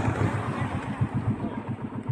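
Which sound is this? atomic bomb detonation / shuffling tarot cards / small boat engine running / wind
small boat engine running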